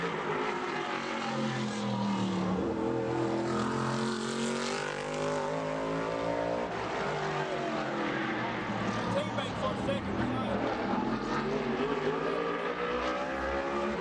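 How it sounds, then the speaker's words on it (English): A modified race car on a qualifying lap at Bowman Gray Stadium, the number 51 car, roars loudly and continuously, its engine pitch rising and falling through the laps, with an announcer's voice over it. "Junior flying the colors of Wagner Appliance and Velocita there in that number 51 car of Junior Snow."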